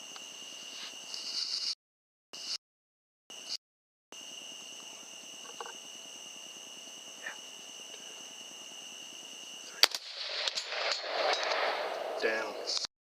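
A single sharp rifle shot fired at a big wild hog beside a feeder on a farm, preceded by quiet outdoor ambience with a steady insect-like drone and followed by rustling and excited movement.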